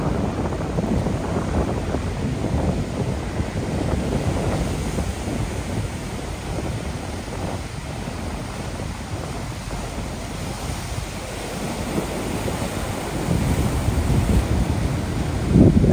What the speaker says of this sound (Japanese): こちらは太平洋とインド洋が重なるので、えー、波がすごい荒れてます